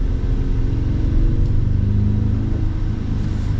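A 2026 Chevrolet Silverado 1500 Custom's 300-horsepower turbocharged four-cylinder engine pulls under acceleration, giving a steady, close, low rumbling drone with no speech over it.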